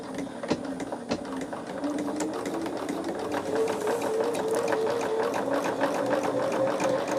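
A sewing machine runs steadily, stitching a right-facing stem design on quilt fabric, its fast rhythmic needle clatter close and loud after a few starting clicks, with a whining motor tone rising as it continues.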